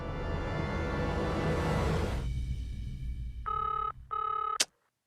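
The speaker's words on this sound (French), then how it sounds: "Allez, réponds au téléphone." A telephone rings twice in short trilling bursts after a loud wash of background noise cuts out, ending in a sharp click.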